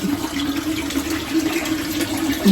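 Water runs steadily from a garden pipe among plants being cleared for an onion bed, a constant close gushing and splashing flow with no pauses and no talk.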